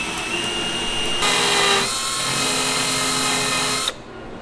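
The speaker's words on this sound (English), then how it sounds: "I'm trying to belt sand off these spacers because there's a screw that broke off in it." A belt sander grinds steadily on metal trim spacers that hold a broken-off screw during an exterior trim restoration. The whine is loud and continuous, shifts in tone partway through, then cuts off abruptly near the end.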